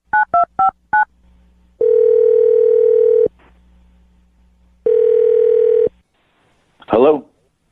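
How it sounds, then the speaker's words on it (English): Four quick DTMF keypad beeps from a telephone, then a steady dial-line tone sounding twice in long blocks with a pause between, ending with a brief voice-like burst; loud and close. "Now I'm going to dial Rick's phone number"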